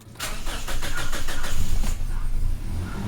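A Toyota Fortuner with the 2TR-FE gasoline engine cranks and fires up after a fuel filter replacement, a short cranking burst settling into a loud, close idle.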